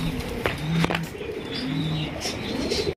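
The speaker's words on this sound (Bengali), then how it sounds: "এখানে রয়েছে একজন মার্সিডিজ কবুতর," Pigeons of the Mercedes breed coo in low, repeated warbling notes close by, with occasional higher chirps from other birds mixed in, steady and moderately loud throughout.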